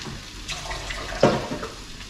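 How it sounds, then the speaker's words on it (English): Water is swilled around a container to rinse out leftover ketchup while making cottage pie, giving a faint sloshing with one brief, sharper splash near the middle. "Swill it about with water."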